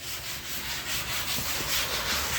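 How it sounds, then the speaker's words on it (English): Sanding on a garage floor makes a continuous, close, loud rasping scrub with a slight pulsing rhythm and no voices. "You sanding my floor?"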